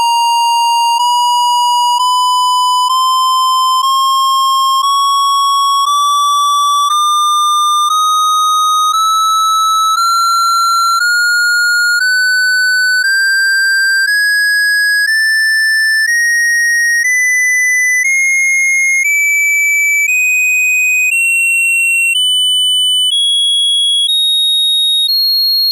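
An Atari 2600 sound chip stepping through its notes from the lowest pitch upward, a buzzy square-edged tone rising in small uneven steps, loud and continuous with no pauses or voices.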